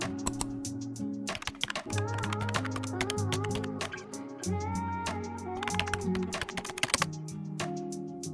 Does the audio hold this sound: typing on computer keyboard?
yes